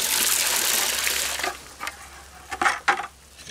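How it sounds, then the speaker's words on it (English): Water poured into a high-strength concrete mix for a masonry step footer, a steady loud gush and splatter that thins out, followed by a few short splashes near the end. "Put my water into it."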